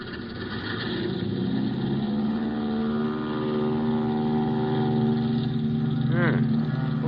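Small private plane taxiing as a radio drama effect, a steady droning engine hum with a rough buzzing tone, moderately loud and continuous, heard in narrow old-radio quality.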